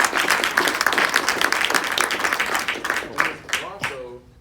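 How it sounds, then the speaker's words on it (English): A round of applause for Miss Bronco at a student leadership presentation event, a sustained burst of clapping from an audience that fades over a few seconds under a raised voice. "can we give a round of applause for Miss Bronco?"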